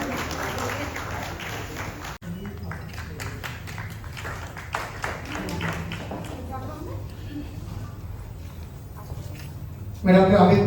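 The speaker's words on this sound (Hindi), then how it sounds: "तालियों की एक और ध्वनि" Applause for honoured guests at a large astrology conference in Delhi, a steady crowd of clapping that continues throughout, swelling louder near the end.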